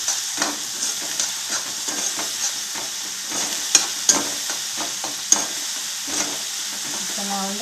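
Potatoes with salt being stir-fried in a pan, giving a steady close sizzle with repeated scraping and stirring strokes and a few sharp clinks of the spatula against the pan, no talking.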